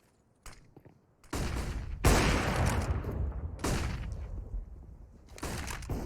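Gunfire rings out during a competitive Counter-Strike match, with several loud, sustained bursts of rapid shots separated by short quiet gaps and a heavy blast near the middle.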